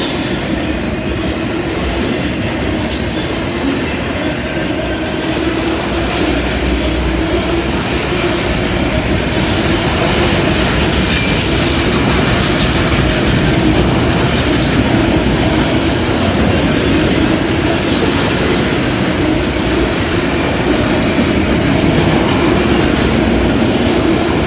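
A night freight train of loaded autoracks rumbles steadily past on the old B&O line, a continuous loud roar of rolling wheels and rattling cars with occasional faint squeals.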